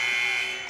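The buzzer ending the third quarter of a girls' high school basketball game blares as one steady, loud electronic tone that fades slightly toward its end.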